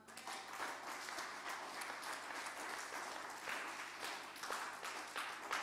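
A church congregation applauds during a French-language sermon, steady dense clapping that fills the whole stretch at moderate distance, with no talk over it.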